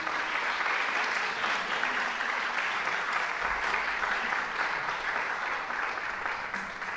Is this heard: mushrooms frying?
no